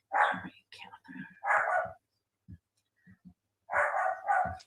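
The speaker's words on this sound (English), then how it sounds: "Maisie's barking at something" A dog named Maisie barks a few times in short bursts at mid distance, mixed in with talk.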